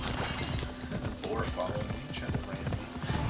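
A horse gallops with rapid, rhythmic clip-clop hoofbeats in the video game Assassin's Creed Odyssey, close and steady under lively talk from players.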